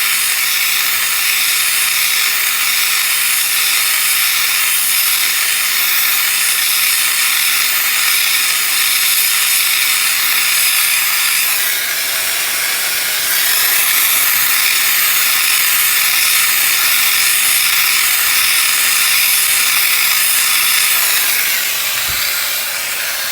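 Torch flame heating the slider bolt area of a rear brake caliper bracket on a 2001 GMC Sierra, a loud continuous roaring hiss that holds steady throughout with a brief dip partway.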